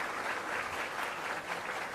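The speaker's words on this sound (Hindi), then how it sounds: "आप सब तालियों से अभिनंदन करें" Audience applause welcoming the chief minister at a government benefit-transfer event, a dense, even wash of clapping that holds steady throughout, somewhat distant and with no talk over it.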